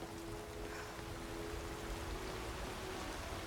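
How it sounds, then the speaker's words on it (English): Steady rain falling over an open field in Skyrim, a constant soft hiss with no breaks, even in level from start to finish, with no voices over it. "It's raining."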